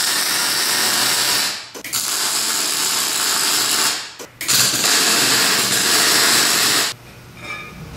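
Three long bursts of loud, hissing drilling into metal, each stopping abruptly, followed by a quieter tail with a faint squeal.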